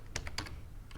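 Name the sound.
typing on a computer keyboard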